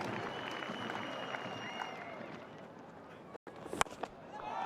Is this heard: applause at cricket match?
yes